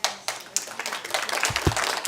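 Scattered audience clapping breaks out at a joint interim committee hearing on education in Carson City, uneven hand claps over room noise lasting a couple of seconds.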